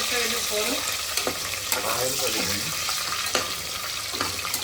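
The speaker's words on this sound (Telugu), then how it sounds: "ఇవైతే చక్కగా వేపుకున్నామండి" Green chillies and a small tomato fry in hot oil in a pressure cooker, a steady close sizzle with occasional stirring clicks and scrapes throughout.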